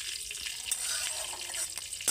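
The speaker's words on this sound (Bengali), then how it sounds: "এই দেখুন কত সুন্দর ভাজা হয়ে গেল।" Rice batter snack frying in hot oil in a pan gives a soft, steady sizzle with faint crackles and a few brief pops, close and fairly quiet, with no talking.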